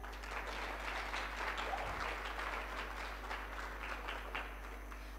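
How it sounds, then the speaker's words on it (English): Applause from a pageant audience at the Miss Supranational 2018 Top Model Competition, greeting the organization's president: a steady, dense wash of clapping held at an even level throughout, moderately distant, with no voices on top. "A big applause for him"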